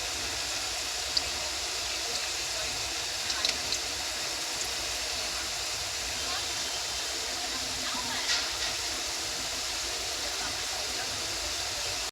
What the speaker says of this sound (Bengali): ওই জন্য আলুটা ভালো করে ভেজে নিতে হবে।